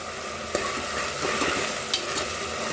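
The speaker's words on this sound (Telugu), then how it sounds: "ఉల్లిగడ్డలు, పచ్చిమిర్చి, పసుపు, అల్లం, కారం ఇవన్నీ వేసి కొంచెం ఫ్రై చేయాలి." Onions, green chilies, turmeric, ginger and chili powder sizzle in hot oil in a pan for a peas curry while a spoon stirs and scrapes steadily, with a few sharp clinks against the pan and no talking.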